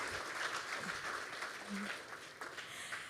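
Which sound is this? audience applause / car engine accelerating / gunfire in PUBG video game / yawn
audience applause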